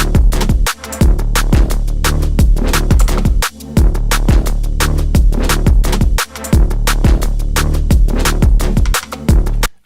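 A punchy drum and bass beat loops at a fast tempo, with crisp snare and hat hits over heavy kicks and brief dropouts between phrases, loud and with no voices.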